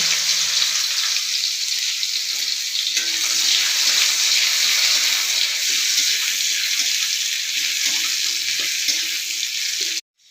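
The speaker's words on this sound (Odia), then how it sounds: "ତାପରେ ଏବେ କଢ଼େଇରେ ମୁଁ ପିଆଜ ପକେଇବି" Onions frying in a hot kadai of oil, a loud, steady sizzle hiss running for about ten seconds with faint stirring scrapes underneath, then cutting off abruptly.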